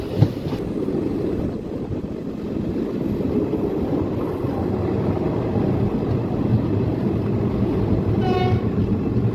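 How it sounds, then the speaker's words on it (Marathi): A passenger train hauled by a WDP 4D diesel locomotive rolls along with a loud, continuous rumble and wheel clatter heard from on board, with wind noise and a faint horn-like tone near the end. "WDP diesel engine, WDP 4D diesel फार कमी पाहायला मिळतात"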